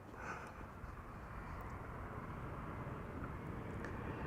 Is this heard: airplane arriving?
yes